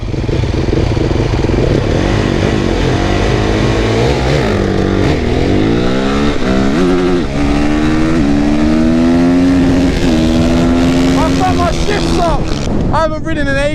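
Honda CRF450R supermoto motorcycles rev loudly and continuously at a start, close to the microphone, with rising and falling engine pitch, wind buffeting and voices mixed in.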